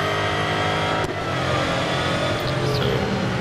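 Race car pulling away from a standing start in the mobile racing game Real Racing 3, a loud continuous engine note rising in pitch as it accelerates, with a brief click near the one-second mark and no talk.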